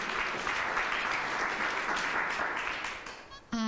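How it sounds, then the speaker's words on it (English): A crowd applauds, a dense patter of clapping that fades slightly before a brief sharp noise at the end. "If we could give her a round of applause."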